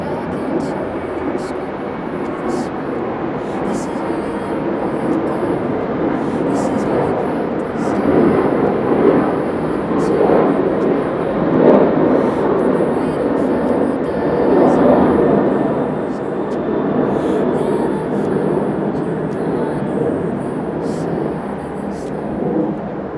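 Peach airliner at Okinawa airport, a distant jet roar swelling and fading over twenty seconds as it passes, broad low rumble with steady outdoor background.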